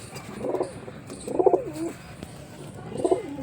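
Pigeons coo nearby in three soft, throaty phrases about a second apart, each rising and falling, over quiet background hum.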